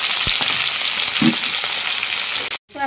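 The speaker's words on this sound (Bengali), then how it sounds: "বাদাম আর ছোলা, এইগুলো আজকে ছেড়ে দেবো এই তেলের মধ্যে" Peanuts and chickpeas fry in hot oil for a Bengali kochu shak dish, a loud, close, continuous sizzle with a few pops that cuts off abruptly near the end.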